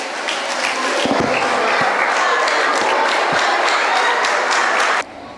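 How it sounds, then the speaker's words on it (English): Audience applause for a contestant at a Kids Podium Gambia speaking competition, a steady dense clapping from a crowd that holds for about five seconds, then cuts off abruptly. "Please give her a round of applause."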